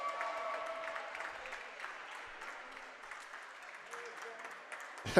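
A crowd applauds steadily in a gym at a Brooklyn College versus Baruch women's volleyball match, a dense, moderate wash of clapping that continues with an announcer talking over it.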